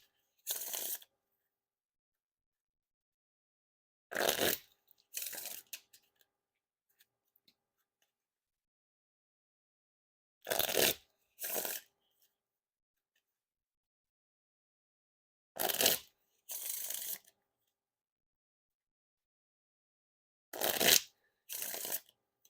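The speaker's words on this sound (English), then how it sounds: "And now time for the riffle shuffle or bridge shuffle." Several riffle shuffles of a Theory11 Sentinels playing card deck, each a quick fluttering burst followed by a softer bridge, separated by pauses of silence.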